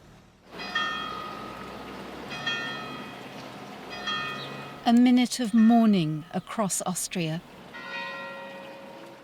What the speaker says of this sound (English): Church bells rang out for the victims of the school shooting in Graz